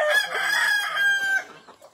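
A rooster crows loudly and close on a farm, one long call with clucking hens mixed in underneath.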